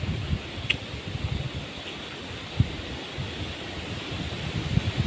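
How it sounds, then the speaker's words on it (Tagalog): Steady broadband rush of strong wind at Makiling buffeting the microphone, continuous and fairly loud, with no talking. "Malakas po yung hangin."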